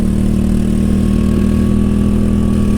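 Go-kart engine running on a karting track, a loud, steady buzzing drone with a strong constant hum and no change in pitch, close and alone without talk.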